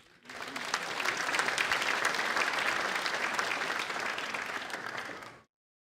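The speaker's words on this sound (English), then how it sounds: "Another round of applause, please." A crowd at the opening ceremony of a gas balloon race applauds steadily for about five seconds, with dense, even clapping that fades out abruptly at the end.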